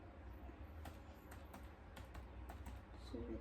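Typing on a computer keyboard while setting up a VLAN network lab, with soft, quiet key clicks spread irregularly over steady background hum and no talking.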